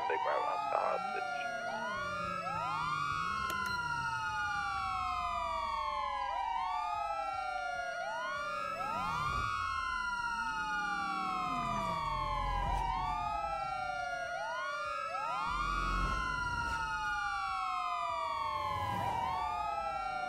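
Police car sirens in an online police roleplay video game wail continuously for twenty seconds, several sweeping tones overlapping and cycling up and down, with occasional bursts of engine or crash noise mixed in.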